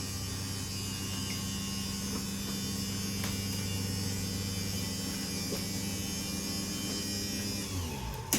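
Electric motor driving the slide-out of a 2021 Keystone Fuzion 427 RV outward, a steady close mechanical hum and buzz that runs evenly and then cuts off at the end.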